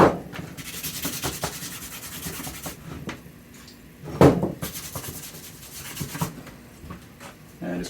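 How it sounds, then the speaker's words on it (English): A wire brush scrubs the sole of a Red Wing 10875 boot during a resole, after sanding and a thinner wash: steady, close, gritty rubbing strokes with a few sharper scrapes partway through. "And just give it a brush with a wire brush."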